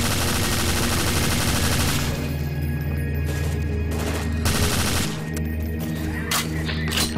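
A semi-automatic rifle fires in the BrainBread 2 zombie shooter, loud repeated shots over a dense, continuous roar of game noise, with heavy booming bursts and no talking.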